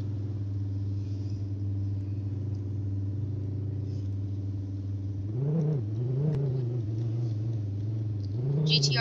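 A Roblox GTR's engine drones steadily in a low, even hum, then rises and wavers through several revving surges as the car speeds up.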